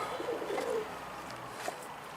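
A pigeon gives a soft, low coo near the start, then a quieter rustle follows against faint outdoor background.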